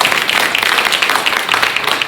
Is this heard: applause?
yes